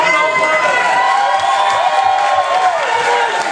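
Loud crowd cheering and applause at a village playback show, with shrill whoops and shouts, including children's voices, over continuous clapping that stays close and steady throughout.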